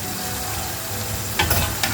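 Penne pasta lifted with a skimmer into a pan of arrabbiata sauce sizzles steadily, with a brief louder splash and hiss as wet pasta lands near the end, no voices.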